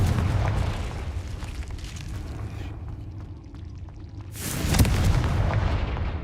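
Confringo fire spell explosions in Hogwarts Legacy: a heavy booming blast rumbling loudly at first, a quieter lull, then a second sharp explosion bursting and rolling off.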